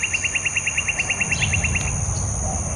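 Birds chirp outdoors in spring, with a steady train of about a dozen short, evenly spaced chirps at one pitch and faint calls behind them, set against continuous broadband ambient hiss.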